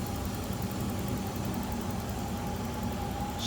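A 1986 Nissan 300ZX V6 with a 5-speed manual, idling smoothly with a steady low hum, alone without talk.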